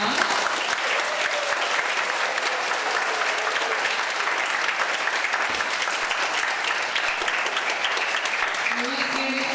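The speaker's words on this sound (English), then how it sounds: "let's give our veterans and their families that have joined us today one more round of applause" Sustained applause from an elementary school audience at a Veterans Day program, honoring veterans and their families: dense, steady clapping that fills the whole stretch at full loudness, with faint crowd murmur underneath.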